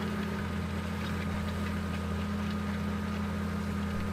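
A tractor engine idles with a steady low rumble and faint knocking in the video game Farming Simulator 15, a cultivator hitched behind, droning evenly and alone throughout.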